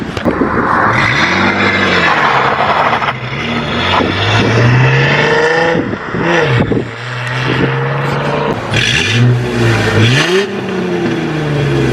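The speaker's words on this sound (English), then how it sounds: "we're gonna get some drive-by shots and see how she sounds" A Ford Mustang's 3.8-litre V6 engine revs and roars past at close range, pitch rising and falling with each pass, loud and continuous throughout.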